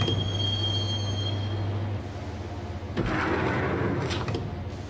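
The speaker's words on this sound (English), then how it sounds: "the train doors had already shut behind me, and I was in for the ride" Subway train ride in the Max Payne video game: a steady low rumble with a sustained tone, shifting at about three seconds into a louder, gritty rattle of the moving carriage, with no voices.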